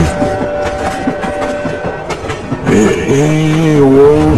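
A train rumbles past on the tracks with rhythmic clatter, loud and close, ending in a rising tonal squeal from the wheels.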